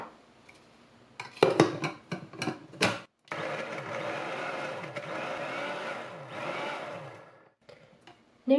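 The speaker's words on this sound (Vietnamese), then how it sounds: "Tiếp theo là 5 g nghệ, mình sẽ xay luôn." An electric blender grinds turmeric for a Vietnamese Mì Quảng recipe, whirring steadily for about four seconds after a few short clattering bursts, moderately loud and close with no talking.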